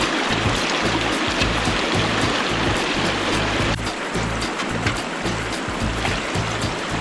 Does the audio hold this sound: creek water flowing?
yes